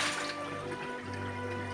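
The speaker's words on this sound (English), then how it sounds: "First, you fill in the saucepan with the water." Water running from a tap into a saucepan for pasta, a steady close hiss and splash whose tone deepens slightly partway through as the pot fills.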